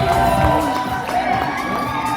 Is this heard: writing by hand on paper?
no